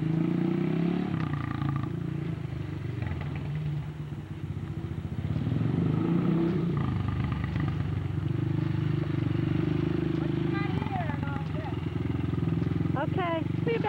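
An XR200 motorcycle engine idles and revs outdoors in a steady rumbling drone that swells and eases over the whole stretch, with people talking over it and a brief high-pitched chirping near the end.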